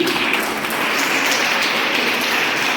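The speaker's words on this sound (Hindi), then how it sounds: "देखो ताली क्यों बज रहा है?" A seated audience claps steadily and continuously at a public talk by former Union Minister R. C. P. Singh in Sakri, Madhubani, a dense wash of many hands with no pauses.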